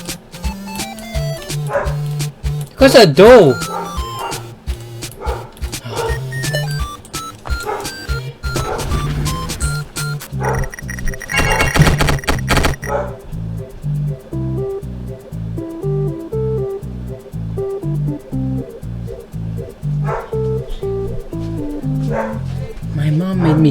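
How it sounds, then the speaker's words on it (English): A pet dog barking and yipping indoors while someone talks, with game sounds and music playing through much of it. "When does my dog bark?"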